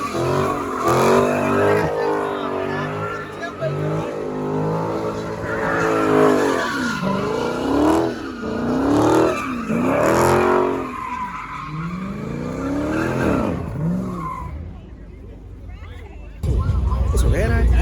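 Dodge Hellcat Redeye doing a burnout at a car meet, tires squealing and skidding with a steady roaring engine throughout, loud and close, with people talking and shouting over it and a short burst near the end.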